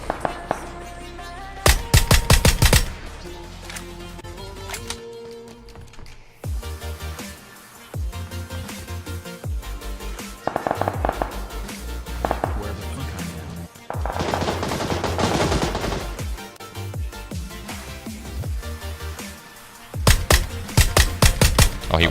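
Loud, close bursts of rapid automatic gunfire from the video game PUBG, several volleys separated by short pauses and quieter game sounds.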